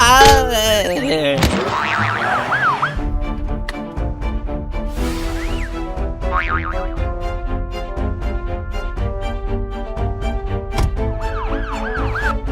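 A loud wailing ambulance siren with rising and falling sweeps runs over a busy musical background with bouncy cartoon effects, steady throughout.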